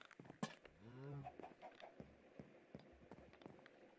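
Chickens in Minecraft give a few soft, short clucks over quiet background noise.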